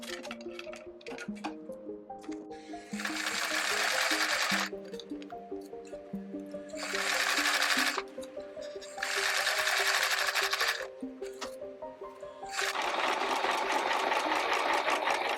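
A sewing machine stitching the seams of a fabric bag, running in several loud, rapid bursts of a few seconds each, separated by quieter pauses with softer mechanical ticking in between.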